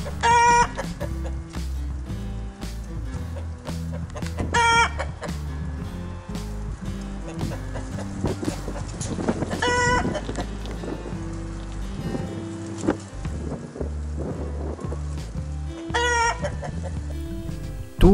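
Hens clucking in repeated bursts over a steady, tonal background, with occasional louder clucks and a possible rooster note, close and fairly loud throughout.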